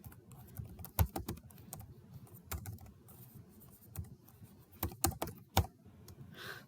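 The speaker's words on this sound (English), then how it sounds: "I can't type this morning." Someone types on a computer keyboard, close and fairly quiet: irregular bursts of key clicks with several sharper, louder taps and short pauses, and no talking during the typing.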